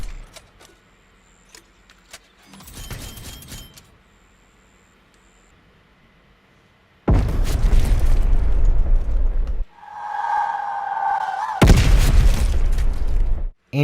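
A spawn tube launched in Black Ops Cold War on the Zoo map: loud bursting, whooshing blasts in a few separate rushes, with small clicks and rattles between them.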